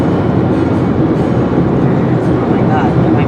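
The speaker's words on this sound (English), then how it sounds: "that might be the longest train I've ever seen" A very long freight train pulled by four engines rolls past close by, a loud, unbroken rumble and roar of wheels and cars, with people talking over it.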